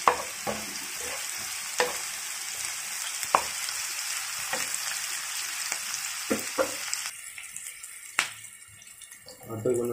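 Green chillies go into a pan of capsicum chicken gravy, setting off a crackling sizzle punctuated by spatula knocks and scrapes, which fades to a quieter simmer near the end.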